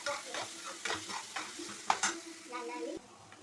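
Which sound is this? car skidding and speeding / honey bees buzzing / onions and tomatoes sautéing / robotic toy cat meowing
onions and tomatoes sautéing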